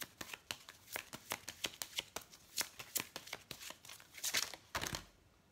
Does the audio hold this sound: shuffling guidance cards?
yes